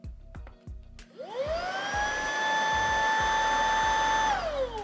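Moosoo M 300W cordless vacuum cleaner motor whirring up after a few clicks and taps, holding a steady high whine for about three seconds, then winding down, close and fairly loud, with no talking.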